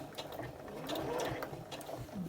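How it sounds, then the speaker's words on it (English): A sewing machine runs in short bursts as it stitches a cosmetic bag, its rapid mechanical whir rising and falling close to the microphone. "I'm just stitching it a stitch at a time."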